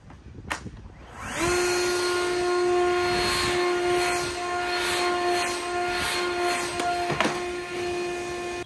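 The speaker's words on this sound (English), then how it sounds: "the only true way to determine which one of these two blowers is more powerful is to enter the spin zone" Two leaf blowers, a Ryobi and an Ego, are aimed at a spinning chair. A loud, steady, high-pitched motor whine starts after a short rustle and holds for several seconds nearby, with no voices.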